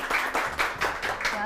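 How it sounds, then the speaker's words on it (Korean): Studio audience clapping to welcome a guest lecturer on a Korean lecture show, a short burst of dense, steady applause with talk faintly beneath. "큰 박수로 모셔볼게요"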